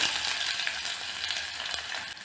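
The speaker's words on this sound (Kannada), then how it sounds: "ಈಗ ಕುರ್ಮಾ ಒಗ್ಗರಣೆ ಮಾಡೋಣ ಎಣ್ಣೆ ಹಾಕ್ತಾಯಿದ್ದೀನಿ ಎರಡು ಸ್ಪೂನ್ ಎಣ್ಣೆ ಸಾಸಿವೆ ಕಾಲು ಸ್ಪೂನು ಒಂದು ಈರುಳ್ಳಿ" Mustard seeds and chopped onion are tempered in two spoons of hot oil for a tomato kurma, giving a continuous soft sizzle and hiss. The frying stays fairly quiet and even, with no speech.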